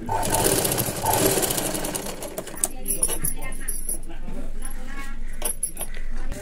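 A sewing machine runs steadily, stitching cloth piping for a square neckline, a continuous close mechanical whir with a few brief clicks, while a voice speaks over it at times.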